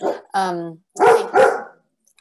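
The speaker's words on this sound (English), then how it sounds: "The dog was barking." A dog barks a few times close to the microphone during an online meeting, loud sharp barks in two quick pairs with silence after.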